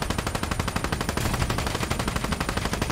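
Rapid automatic gunfire aimed at a boss's thrusters in Call of Duty Black Ops 3: a dense, continuous, loud burst of fast shots filling the whole stretch, no talking.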